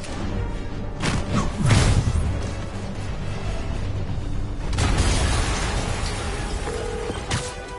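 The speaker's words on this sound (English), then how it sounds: "an explosion just..." Explosion in the Spider-Man video game, heard as a loud, booming burst with crashing debris near the start, followed by rumbling mechanical noise and a second heavy impact midway, with no talking.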